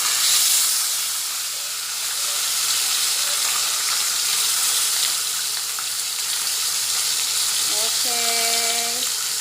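Fish frying for Filipino sarciado in a pan, a steady loud hiss and sizzle of hot oil running throughout, with a brief clatter near the end and no talk.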